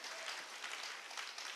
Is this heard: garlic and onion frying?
no